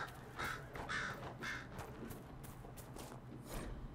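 A raven in Dragon Age Inquisition gives three harsh caws close together, then fainter calls follow over a quiet ambient background, with no talking.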